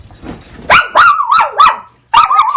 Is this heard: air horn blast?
no